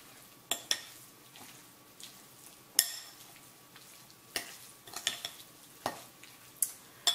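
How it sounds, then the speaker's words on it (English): Flaked cooked salmon and cake ingredients being gently folded together in a bowl, soft scraping stirs broken by several sharp utensil clacks against the bowl, close and fairly quiet with no talk. "I'm going to gently combine the ingredients so the fish doesn't get broken up"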